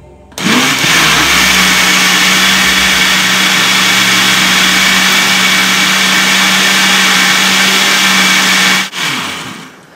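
A blender whirs loudly and steadily through cake batter with sugar added, starting abruptly, holding a constant motor drone for about eight seconds, then cutting off and winding down.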